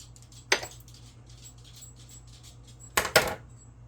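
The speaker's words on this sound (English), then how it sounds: "Right now I am dropping some butter in here" Butter is dropped into a crock pot full of corn, giving one soft clunk and then two quick knocks against the pot a few seconds later. Each is close and brief over a quiet low hum.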